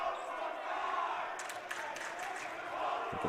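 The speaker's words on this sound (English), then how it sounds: "their crowd is letting him have it after as well, chanting 0 for 5" A college basketball crowd in a gym jeers a player at the free throw line, a loud sustained roar with chanting and sharp shouts swelling midway, with a voice heard in it.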